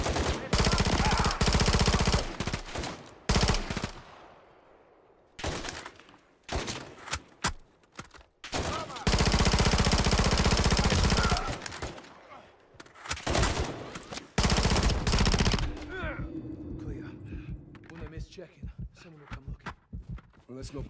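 Automatic gunfire in the Modern Warfare 3 campaign, played on Veteran: loud, dense bursts of rapid shots separated by short silences, with footsteps and voices between bursts and a quieter stretch near the end.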